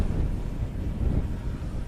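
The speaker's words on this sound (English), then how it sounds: "The wind is blowing, well, you can probably hear it's blowing around about 15 miles an hour at the moment." Gusty wind buffets a microphone near a JJRC X9 Heron drone flying in roughly 15 mph wind, a low rumbling roar that swells and eases without a break and with no speech.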